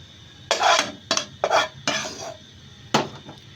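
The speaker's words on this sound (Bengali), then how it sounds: "এই যে আমি এখানে একটা প্যান বসিয়ে দিয়েছি" A metal pan set down and shifted on a stove while cooking vegetable fried rice, several sharp clattering knocks and scrapes in irregular bursts, close and loud.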